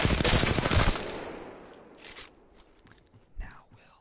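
Burst of R-301 rifle fire in the Apex Legends firing range opens loud, then fades into softer scuffs, footstep-like crunches and a couple of brief impacts, with no talking.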